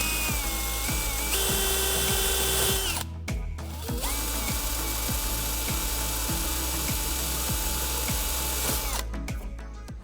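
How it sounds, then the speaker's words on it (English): A power drill whirs loudly and steadily while drilling holes in the hood of a 1979-1998 Ford Mustang, its pitch briefly shifting and pausing mid-way before running again, with rhythmic mechanical ticking underneath. "Now we can carefully drill the holes."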